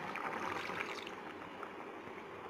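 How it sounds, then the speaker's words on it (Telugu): Water pours and splashes into a pan of chicken curry as it is stirred in, a soft, continuous trickling wash, faint and close, with no voices. "ఇప్పుడే వాటర్ మనం మిక్స్ చేసుకోవాలి"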